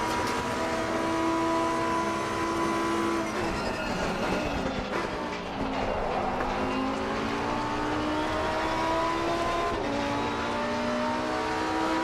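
A Lamborghini race car accelerating hard down the front straight at Bathurst, engine whine rising steadily through the gears alongside other cars in a sustained loud roar.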